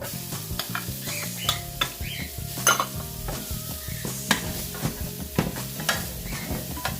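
Fresh garlic and onion frying in olive oil in a pan for an oxtail stew, a steady close sizzle under repeated scrapes and clinks of a utensil stirring against the pan, with no talk.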